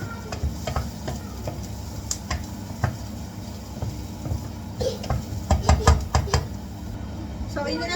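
Garlic sautés in a pan, giving a soft, steady sizzle broken by irregular knocks and scrapes of stirring, close and moderately loud.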